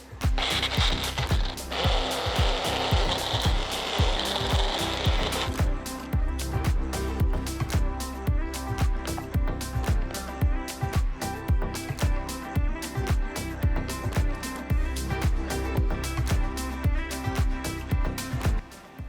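A Magic Bullet blender grinds keto brown sugar made from erythritol or allulose, giving a loud, continuous mechanical whir with rapid rattling pulses that run unbroken for nearly twenty seconds.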